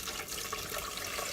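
Water runs steadily into a blender as four cups are filled, a brief, even splashing pour heard up close and alone.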